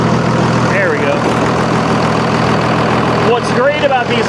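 An old Cummins diesel engine idles with a steady, low rumble close by, while people talk over the running motor.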